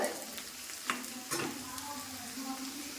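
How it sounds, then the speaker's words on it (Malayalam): Onions and coconut pieces fry for a chicken perattu, with a continuous close sizzle and a couple of brief stirring scrapes in the pan. "നമ്മുടെ സവാളയും ആ തേങ്ങാക്കൊത്തും മൂത്തിട്ടുണ്ട്"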